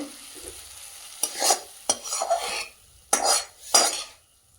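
Spice masala for doi chingri (prawns in yogurt) fried in oil in a pan, with a series of distinct, close scraping stirs of a metal spatula over a faint background sizzle and no talking.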